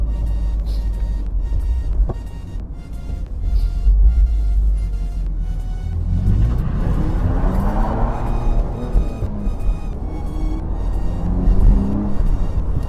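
A BMW Z3 roadster on a test drive, its engine droning steadily with a rise in revs and road roar partway through as it accelerates, loud and close throughout with no talking.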